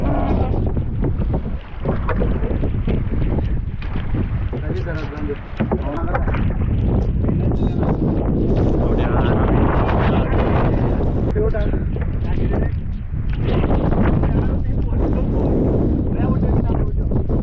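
Strong wind buffets a small crowded boat out crab fishing in a sudden storm, roaring continuously with choppy water splashing around the hull and voices talking underneath.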